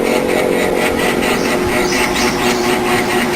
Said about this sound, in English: My drill bits aren't really drilling, they actually look like they're burning their way through